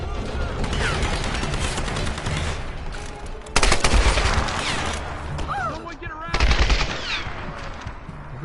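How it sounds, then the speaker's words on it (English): Sustained machine-gun fire aimed at the player in Tomb Raider (2013), rapid bursts that cut out briefly and return louder twice, mixed with game effects. "Who's shooting at us?"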